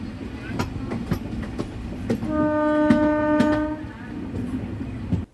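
Tirupati Intercity Express rolling along near Ramapuram station, its steady rumble and clatter joined midway by a loud, sustained horn blast lasting over a second before the running noise carries on.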